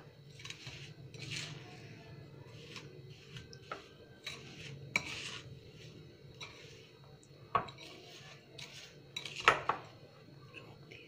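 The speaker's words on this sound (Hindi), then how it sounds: "अभी मैं इसे अच्छे से मेश करेंगे।" A utensil mashing a sweet poha and sugar mixture in a metal pan gives intermittent scraping and clinking against the pan, quiet and close, with sharper knocks near the end.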